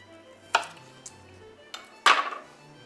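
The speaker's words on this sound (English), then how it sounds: "This woody stem here at the bottom, as well as these stems, I'll cut those off with a knife." A knife cuts woody stems off harvested walking onion top-sets on a hard surface, giving a few separate sharp clicks and taps, the last one loudest, with quiet gaps between.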